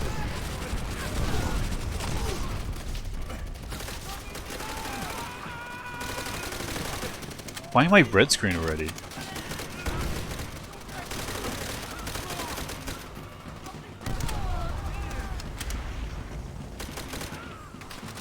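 Gunfire from a World War II battle in Call of Duty: World at War, with bursts and shots under ongoing game noise and someone talking over it, plus a loud blast near the middle.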